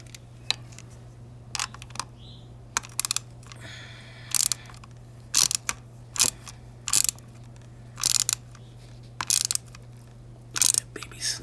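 Ratchet clicks tightening a retaining nut on a Pertronix electronic ignition in a 1970 Dodge Monaco, short bursts of clicking repeating every second or so, close and clear over a steady low hum.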